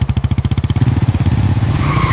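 A motorcycle engine revving hard and picking up speed as the rider accelerates, a loud close pulsing putter that quickens into a steady buzzing drone, used as a sound effect in a Hindi horror story set in a jungle.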